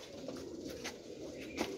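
Pigeons coo in soft, repeated throaty calls at close range, with faint wing flutters and no talking.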